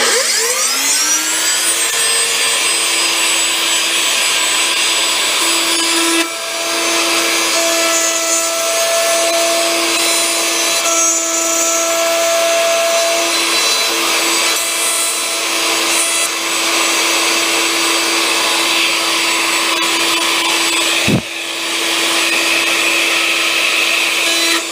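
Power tool cutting a groove into wood, a loud continuous motor whine with steady high-pitched tonal hum and rough rubbing texture lasting throughout, starting up at the beginning and running without pause.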